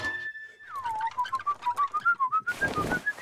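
A boy whistles a tune in a cartoon talent show: a clear solo whistle that holds one note, then swoops down and warbles through short rising and falling notes, ending with a noisy burst.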